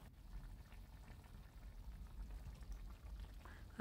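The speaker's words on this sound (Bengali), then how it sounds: "দেখতেই পাচ্ছ প্রায় ফুটে এসছে" Pumpkin stems and prawns simmer in a pot, giving a quiet, steady bubbling that carries on with no talking.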